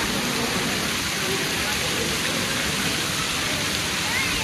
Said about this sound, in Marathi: आजूबाजूला बघू शकतो हे भारी एक वॉटरफॉल आहे इकडे मागे धबधबा.